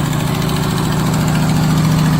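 A Cutlass engine with a Magnaflow exhaust idles high and steady, a loud continuous low rumble with an even pulsing drone that holds throughout, close to the car and with no talk.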